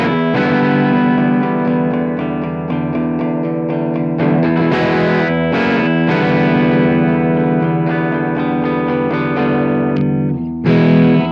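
A made-to-measure Gibson electric guitar with Peter Green wiring, played through a Kemper Colonial amp profile, plays a continuous overdriven lead with chords and picked notes, thick with distortion, chorus and echo, loud and close without any talking.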